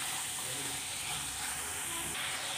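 Mixed vegetables sautéing in a pan for white veg pulao, producing a loud, steady close hiss and sizzle that runs unbroken throughout.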